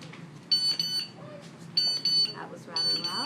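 A classroom timer alarm sounds in three loud bursts of shrill, rapid beeping, separated by short gaps with faint room noise between them.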